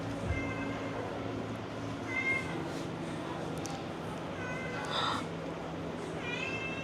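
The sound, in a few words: hairless cat meowing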